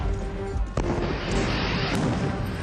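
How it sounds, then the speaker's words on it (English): French cannon bombard British defenses at the siege of Yorktown, a dull booming shot cutting through a continuous rumble, with a second fainter thump later. "The French cannon pound the British defenses day and night."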